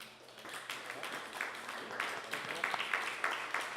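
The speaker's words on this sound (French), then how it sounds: "On peut applaudir très fort Marc-Antoine." An audience claps for a speaker at a presentation, the applause faint and distant at first, then swelling into a fuller, uneven patter with a few sharper individual claps near the end.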